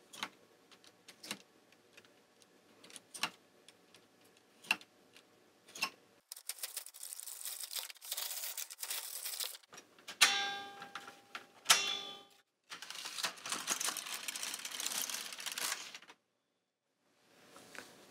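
An LK150 knitting machine knits plaited rows, with the carriage sliding across in repeated passes: regular clicking ticks, then longer rasping swishes with rattling metallic clatter, separated by short pauses, close and fairly quiet with no speech.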